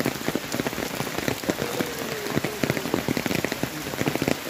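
Rain patters steadily on umbrellas carried along the pilgrimage path to Parshuram Kund in Arunachal Pradesh, with dense irregular drops tapping close by and no voices.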